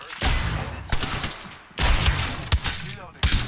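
Apex Legends gunfire comes in loud bursts of rapid shots separated by brief pauses, sharp cracks with mechanical clatter close up; a voice is faintly present underneath.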